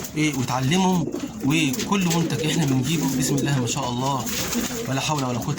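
Domestic pigeons coo in a loft where squabs are raised, their low rolling calls repeating steadily up close beneath someone talking throughout.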